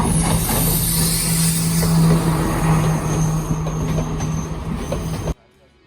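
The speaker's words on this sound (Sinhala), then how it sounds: "ඔන්න ඉතින් අපේ කෝච්චිය එනවා." A train pulls into a station in Sri Lanka, its loud rumble, screeching wheels and a sustained whistle-like tone filling the air, steady and close before cutting off abruptly near the end.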